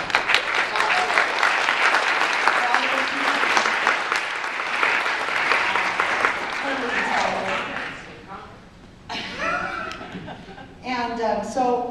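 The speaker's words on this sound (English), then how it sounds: "So I wanted to applaud him." A crowd applauds with dense, steady clapping that fades out partway, followed by scattered chuckles and people talking.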